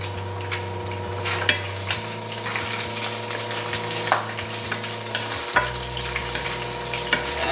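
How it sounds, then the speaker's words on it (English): Eggs frying in olive oil in a pan, a steady broadband sizzle with faint low hum beneath and occasional soft clicks of a utensil, close and continuous with no talking. "Put a little bit more olive oil in the pan. Scoop out a ½ cup of egg."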